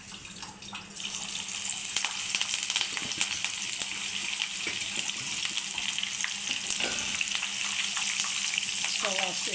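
Green chillies fry in hot oil for chicken pakoda, a loud, continuous close-up sizzle with bubbling and occasional stirring scrapes throughout.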